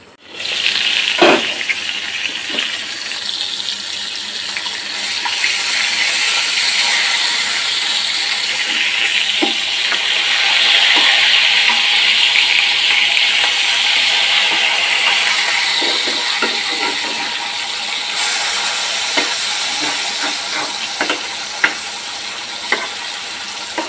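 Fish fries in oil in a pan with a loud, continuous close sizzle and crackle, occasional sharp pops and light clinks throughout, and no one speaking.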